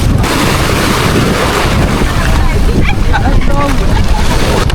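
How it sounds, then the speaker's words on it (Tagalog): Strong sea waves churn and slosh around a small boat off Dingalan, Aurora, a loud, constant roar of water and wind close to the hull, with faint voices briefly audible in the background. "Malakas yung alon."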